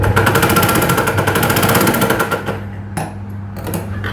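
A sewing machine stitches the neck hem of a blouse, running in a fast, loud rattling burst that slows and thins out near the end.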